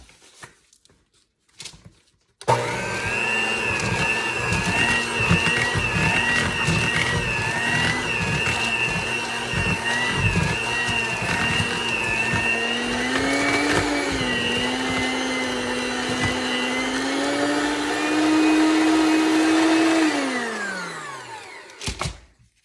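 An electric mixer whirs steadily through sweet potato pumpkin pecan cookie dough, a loud continuous motor drone that shifts pitch near the end and then winds down.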